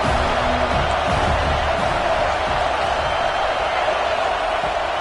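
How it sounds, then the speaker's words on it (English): Football stadium crowd roaring and cheering in a steady, dense wash of noise, loud and continuous throughout with no single voice standing out. "This crowd knows when to bring it."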